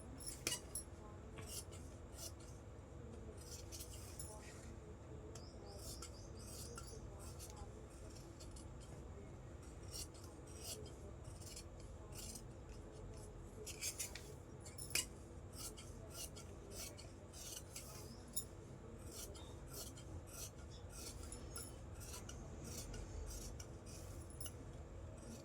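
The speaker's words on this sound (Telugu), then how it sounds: "ఇప్పుడు ఇది కట్ చేసేసుకుందాం." Scissors snip through blouse fabric for a cross-cut pattern in a long run of crisp, quiet cuts and slides, some strokes clustered rapidly, with a soft constant room hum underneath and no talking.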